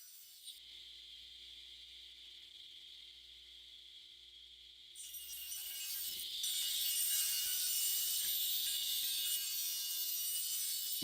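A table saw runs while cutting an angled profile into wooden boards for concealment furniture: a steady high motor whine, then a louder, rougher grinding roar as the blade bites into the wood and keeps cutting.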